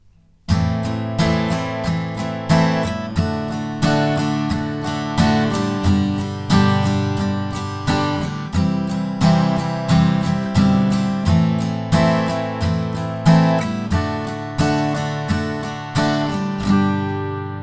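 An acoustic guitar plays the strummed intro, a steady rhythmic pattern of bright, close chords repeating evenly for the whole stretch before a final held chord fades.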